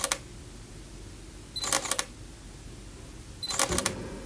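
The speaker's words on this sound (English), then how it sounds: "I'm going to test the shutter sound right here" Two Sony A7 camera shutter releases, each a quick cluster of sharp mechanical clicks, spaced about two seconds apart over a quiet, hissy background.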